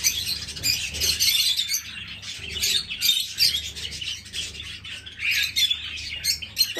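Lovebirds in a large garden cage chirp and squawk in quick, busy bursts, close and fairly loud, with brief quieter gaps between calls.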